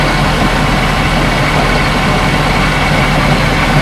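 A Mercruiser MPI V8 marine engine idles steadily, a loud, even low rumble with a constant exhaust drone and no voices over it.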